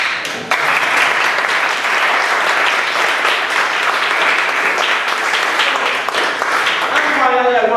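Loud, dense audience applause fills a lecture room at the close of an astronomy course session, steady throughout before breaking up into a few scattered claps at the end.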